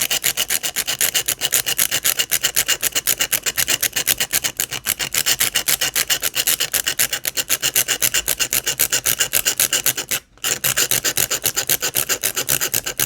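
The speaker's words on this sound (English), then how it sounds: "you scrape off your paint a little bit" Watercolour paint being scraped off paper to add texture to a seascape, heard as a fast, steady rasping of close, loud, even strokes that runs on with one brief pause near the end.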